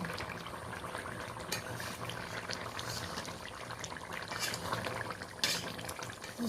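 A pot of thin ridge gourd and potato curry simmers on low heat with a soft, constant bubbling and hiss, faint and even, with a few brief louder clinks.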